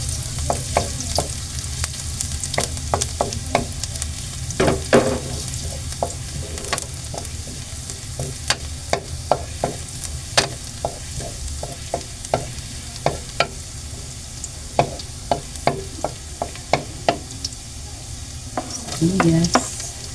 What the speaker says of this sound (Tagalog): Igigisap na po natin sa bawang.